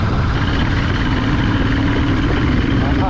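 Royal Enfield Super Meteor 650 motorcycle pulling in sixth gear from about 40 km/h, a loud, steady low engine and exhaust rumble that holds continuously throughout, heard close up.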